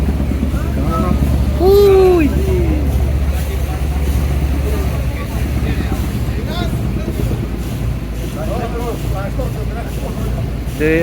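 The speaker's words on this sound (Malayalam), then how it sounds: "ഇവിടെ മറ്റ് ബോട്ടുകളൊക്കെ ഇങ്ങനെ പോയിക്കൊണ്ടിരിക്കുന്നുണ്ട്" A steady low engine drone runs throughout, like a boat motor, while people talk over it and wind buffets the microphone.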